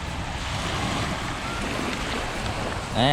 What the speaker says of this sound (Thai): นี่ไงคลื่นมัน